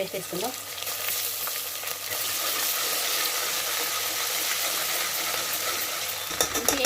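Onions with ginger paste frying in a pan for mutton curry, giving a loud, steady close sizzle that keeps going with a brief clatter near the end.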